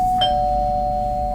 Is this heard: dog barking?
no